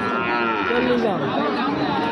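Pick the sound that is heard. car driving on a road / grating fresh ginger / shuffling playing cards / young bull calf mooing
young bull calf mooing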